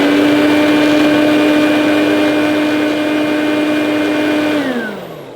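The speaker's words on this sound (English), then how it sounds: "we'll just have a quick look at the sealed suction of the Dirt Devil Hardy" Dirt Devil Hardy handheld vacuum cleaner running during a sealed suction test, a loud close steady motor whine with a strong tone that holds level, then winds down in pitch as it switches off near the end.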